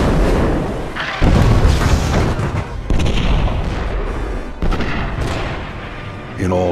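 Heavy naval artillery shells fire at the battleship Bismarck in a dense, booming barrage, with repeated loud blasts and rumbling, and a narrator speaking over the bombardment.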